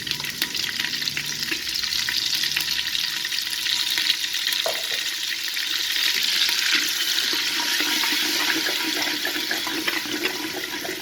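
Shallot paste frying with fennel seeds in a pan for a Tamil country chicken curry, giving a steady, loud, continuous sizzle throughout with no talking.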